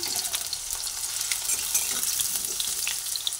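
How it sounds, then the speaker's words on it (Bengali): Two cut potatoes frying in hot mustard oil, a dense, continuous crackling sizzle close up with faint stirring, no voices. "আলু প্রথমে ভেজে নিচ্ছি"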